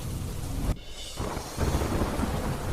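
Heavy monsoon rain in Navsari roars in a dense, loud wash, with a brief dip in intensity before the downpour surges back even stronger.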